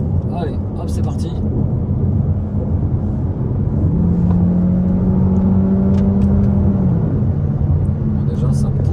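A Peugeot 308 PHEV 225 hybrid accelerating on the road, heard from inside the cabin: a steady whir and rumble with a rising engine tone in the middle, while someone speaks over it.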